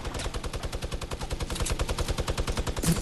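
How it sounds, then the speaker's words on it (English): Rapid automatic gunfire in Fortnite shoots out a trap, a steady loud stream of close shots across the whole stretch with no pauses. "I'm just shooting the trap out"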